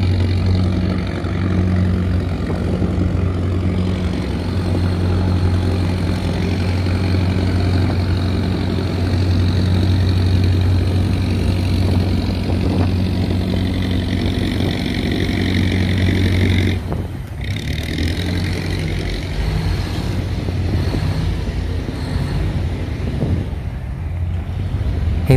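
Engines of a crane-carrying barge and other boats on a canal near a sluice gate: a steady low, throbbing diesel drone that runs the whole time with wind buffeting the microphone, plus a brief bump around seventeen seconds.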